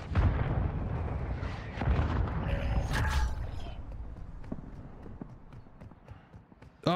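Mortar strike explosions on Rebirth Island in Warzone: heavy rumbling blasts and debris that fade into scattered crackles and thuds. A sharp impact lands at the end, and there is a little background chatter.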